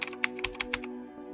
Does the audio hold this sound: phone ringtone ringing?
no